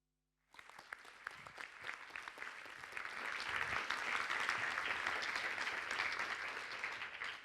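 A crowd applauds steadily at the close of a talk on equal care and equal pay, the clapping starting abruptly and swelling to a full, sustained ovation without voices.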